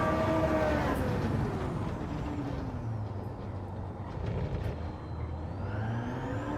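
Distorted engine drone from a car in a racing video game, a steady harsh whir with slowly rising and falling pitch sweeps, continuous and moderately loud throughout.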